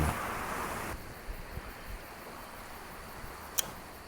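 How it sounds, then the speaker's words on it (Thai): Strong, storm-like wind buffets a house balcony on a cold mountain night at Doi Mae Taman, a steady broadband roar close to the microphone with a brief sharp tick near the end. "ลมมันแรงมาก เหมือนลมพายุอ่ะ"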